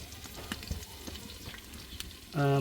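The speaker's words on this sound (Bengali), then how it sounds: "পরিমাণ মতো পেঁয়াজ কুচি দিয়ে দিলাম। এখন 2 মিনিট একটু লাল করে নেব" Chopped onions fry in a pan for a mutton curry, a soft steady sizzle with scattered stirring clicks, close and fairly quiet, cut off at the end by a loud low hum.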